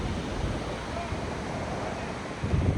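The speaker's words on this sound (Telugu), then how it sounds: "చూస్తున్నారు కదా ఎంత పెద్ద పెద్ద అలలు వస్తున్నాయో" Big ocean waves roll in at Chirala beach, a steady, loud roar of surf mixed with wind buffeting the microphone, swelling slightly toward the end.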